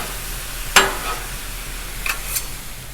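Breakfast burrito filling cooks on a Blackstone griddle with a soft constant sizzle, broken by a sharp metallic spatula tap and a couple of lighter scrapes, close and alone.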